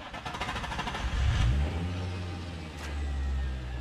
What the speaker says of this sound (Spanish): Déjame prender el 350Z con un Alfa EQ